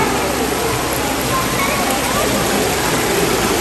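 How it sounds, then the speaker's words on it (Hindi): Water pours down from above into a bathing pool, a loud, dense, steady rush like heavy rain that fills the whole scene without break. "Water is flowing here."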